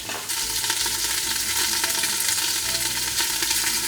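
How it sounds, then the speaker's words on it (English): Coriander seed, cumin seed and black peppercorns are swirled and tossed in a hot, lightly smoking pan for Moroccan chicken and rice, giving a steady, close, bright sizzle and rattle that continues without a break. "We just kind of swirl it around in the hot pan, toss it very gently"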